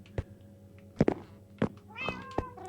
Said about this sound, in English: I can't make my cat sit.